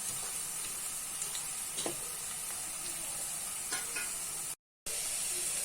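Chicken munchi, a spicy chicken fry, sizzles steadily in a hot pan while being stirred, with a constant hissing fry and a few soft scraping stirs, heard alone with a brief dropout near the end.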